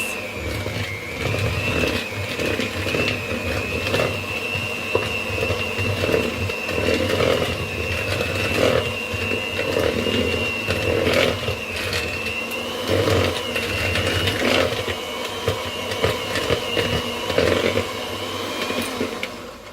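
An electric mixer whirs steadily as lemon square dough of oats, flour, baking powder and salt is mixed; a continuous motor hum with a high whine and scraping rattle, loud and close throughout.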